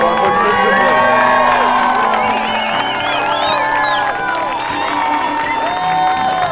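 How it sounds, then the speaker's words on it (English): A crowd at a ski racing event cheers, whoops and claps for the participants, with loud excited shouting sustained throughout under a lively music-like tonal background. "Let's give a round of applause to all of our participants."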